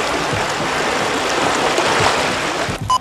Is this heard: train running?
no